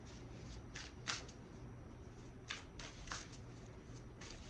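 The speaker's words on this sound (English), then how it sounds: "I'm just shuffling while I'm talking." Tarot cards being shuffled by hand, with soft riffling bursts repeating at irregular intervals, close and fairly quiet over a low steady background hum.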